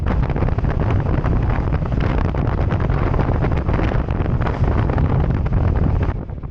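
Icy wind roars steadily and loudly across the microphone while a motorcycle is ridden at highway speed, a dense constant buffeting that masks everything else, easing slightly at the end.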